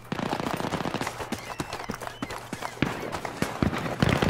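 Rapid gunfire in Battlefield 3 on Xbox 360, a fast irregular run of sharp close shots with brief pauses, fairly quiet overall.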